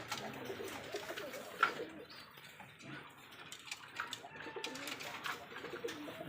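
Pigeons coo faintly in a Rajshahi Giribaz pigeon farm, soft low calls scattered amid general loft ambience with a few brighter sounds, the birds nesting with eggs and chicks.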